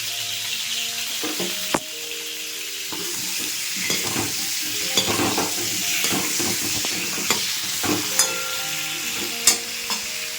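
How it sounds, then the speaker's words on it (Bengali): Sliced bitter gourd fries in a pan with loud, crackling sizzle and repeated scraping as it is stirred, several sharp knocks of utensil on metal punctuating the hiss; no voices. "এরপরে ঘি করলাগুলো ভেজে নেব"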